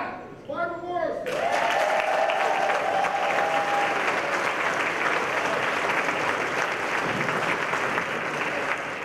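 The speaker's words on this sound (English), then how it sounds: "Give a round of applause" Audience applause at a jazz tribute event, a dense wash of clapping that swells quickly after a brief moment of speech and holds steady and loud, with a faint sustained tone briefly audible within it.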